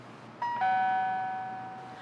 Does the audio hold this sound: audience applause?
no